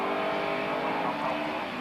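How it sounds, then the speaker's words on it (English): Rallycross cars, including small Formula C machines, race on a dry Lydden Hill circuit in 1990, a steady loud engine roar passing close with a brief swell as they accelerate, no voices over it. "And look at the little Formula C cars in these dry conditions closing hard on Ivan Moakes"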